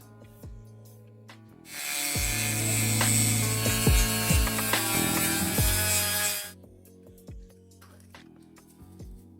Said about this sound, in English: the lens just needs to be sanded down just a wee bit so it fits in the lid